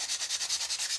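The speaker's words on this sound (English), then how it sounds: "I'm sanding around the edges." Paper edges on a wood kit are sanded in quick, even back-and-forth strokes, about ten rhythmic scratchy rubs, close and alone.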